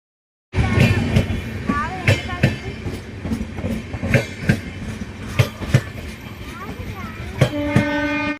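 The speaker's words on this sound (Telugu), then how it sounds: "మేము భరత్ నగర్ నుంచి సికింద్రాబాద్ లోకల్ ట్రైన్కి అయితే వెళ్తున్నాం" A Hyderabad local train runs from Bharat Nagar toward Secunderabad with rhythmic clicking of wheels over rail joints, steady rumble throughout, and a sustained horn-like tone near the end.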